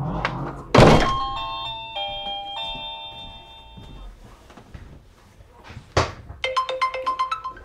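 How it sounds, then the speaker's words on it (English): Electronic chime of a Dzees wireless doorbell camera ringer: a loud knock-like thump, then a sustained two-tone ding-dong melody, followed by a quieter rapid series of chime notes near the end, with faint talk in the background. "You heard the ringer"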